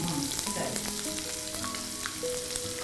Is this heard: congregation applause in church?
no